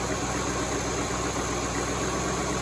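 A Jeep CJ5 engine with a Quadrajet carburetor idles steadily, a loud, close, even rumbling chug with constant vibration and no pauses.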